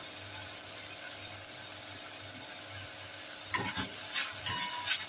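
Prawns stir-frying with red chili sauce, tomato ketchup and pepper powder give a steady sizzle under a low hum, then a few louder scraping stirs near the end.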